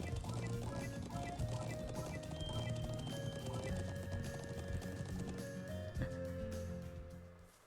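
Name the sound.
horse hooves and whinny in a video game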